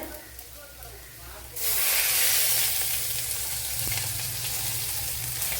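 Shallots frying for a Kerala broken-wheat upma, starting as a soft crackle and then jumping to a loud, steady hissing sizzle, with no voices.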